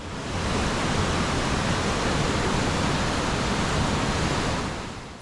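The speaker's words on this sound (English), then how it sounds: "Before reaching the smaller waterfalls through Baxenghyll Gorge." Smaller waterfalls rush through Baxenghyll Gorge on the Ingleton waterfalls trail, a dense, steady roar of falling water that swells in and holds loud and unbroken throughout.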